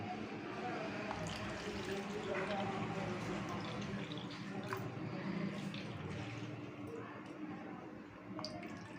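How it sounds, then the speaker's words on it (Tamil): Water poured into black urad dal flour in a bowl, a soft continuous trickle and wet squishing with small drips, close and fairly quiet throughout. "1 கப்பு மாவுக்கு 3 கப்பு தண்ணி சேர்த்துக்கோங்க"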